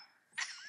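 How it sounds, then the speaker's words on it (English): A single short, harsh cough bursts out after a near-silent moment, then trails off into a faint rasp. "I'm not dying, I'm coughing."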